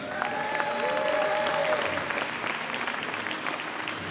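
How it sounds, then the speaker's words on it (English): Spectators applaud steadily as a team is introduced at a youth handball opening ceremony, the clapping dense and moderately loud throughout, with faint whistles or cheers rising briefly in the middle. "Round of applause for the South team."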